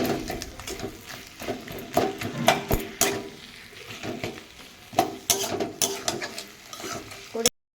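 Fried fish heads being stirred into spice paste in a pan, with a spatula scraping and clattering in irregular strokes over a steady close sizzle, no voices.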